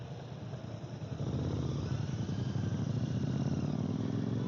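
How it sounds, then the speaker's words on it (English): Royal Enfield Bear 650 motorcycle exhaust heard from roughly 100 feet away, a low steady rumble that swells slightly after the first second and holds, fairly faint and alone. "You could hear his exhaust from here, from 100 feet far."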